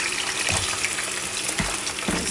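Two kilograms of lamb leg pieces frying in a pot with onions for lamb biryani, a loud continuous crackling sizzle with occasional soft thuds as pieces drop in, with no talking.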